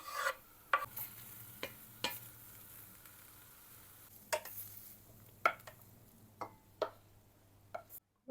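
Minced meat frying in a pan with onion and garlic, a quiet low sizzle under a series of sharp spatula clicks and scrapes spaced irregularly, ending in a sudden cut.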